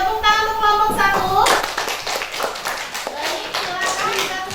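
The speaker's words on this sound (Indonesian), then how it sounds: "tepuk tangan untuk kelompok 1" A classroom claps for group 1, with a spoken voice at the start giving way to a burst of uneven hand clapping mixed with children's voices close by.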